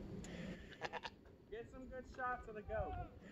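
Outdoors, a goat gives a couple of quavering bleats at moderate distance, mixed with quiet background sounds and faint voices nearby.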